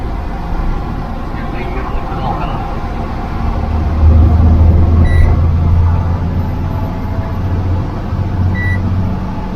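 A Tata Prima 3530 TK BS6 heavy-duty tipper truck's diesel engine runs with a steady low rumble and a slight beat, swelling louder midway, while someone talks over it.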